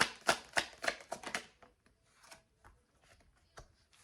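Tarot cards are shuffled and drawn, a quick burst of crisp riffling flicks followed by quieter, sparse card slides and taps, all close and faint with no talk.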